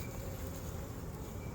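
Honey bees buzz during a hive inspection, a faint, continuous droning hum with no gaps, steady and low in level throughout.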